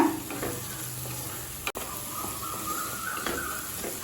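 Chicken gravy sautés with chilli powder in a pan, a steady close sizzle broken by scraping stirs and a brief clatter partway through.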